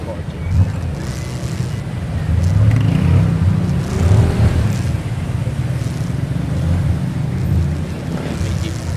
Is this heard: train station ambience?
no